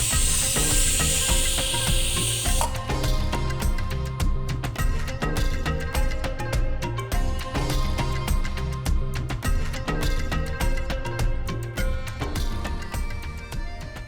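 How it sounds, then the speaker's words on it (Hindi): Sliced onions fry in plenty of hot oil for Lucknowi dal, a continuous close sizzle and crackle that holds steady throughout, with a brief brighter hiss at the start and no talking. "तो सबसे पहले तो ये प्याज फ्राई किया।"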